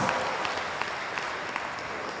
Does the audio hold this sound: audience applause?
yes